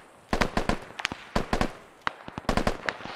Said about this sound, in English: Taking fire from the southwest.